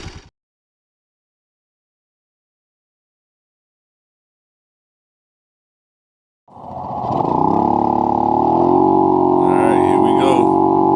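A Honda Navi motorcycle fitted with a new intake starts up after a few seconds of silence and idles steadily, close and fairly loud, settling into a continuous, even engine drone.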